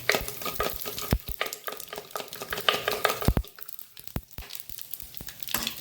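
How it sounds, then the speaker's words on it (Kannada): Mustard seeds splutter in hot oil in a pan, giving a rapid run of sharp pops and crackles over a close sizzle, with occasional utensil clinks. "ಹಿಂಗೆ ಹಾಕುವ ಮೊದಲು ಸಾಸಿವೆಯನ್ನು ಹಾಕ್ಕೊಳ್ತಿದ್ದೇನೆ"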